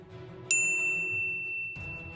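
A bright notification bell dings once, sharp and clear, its high ringing tones decaying slowly over a soft low background murmur before a short burst of low noise at the end.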